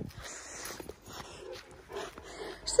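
A dog whimpers and whines softly in a home by the back door, brief thin cries spread across a few seconds with light rustling and a sharp click at the end.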